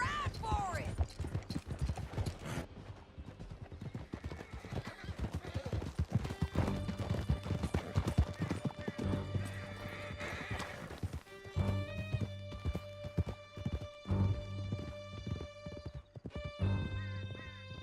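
Horses gallop hard through a canyon in Red Dead Redemption 2, hooves pounding in fast rhythmic clip-clop with occasional whinnies, close and loud beneath music and some spoken lines.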